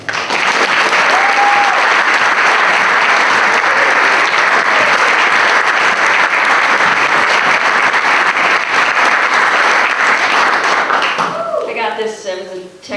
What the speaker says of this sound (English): So let's hear it for Betsy Salkind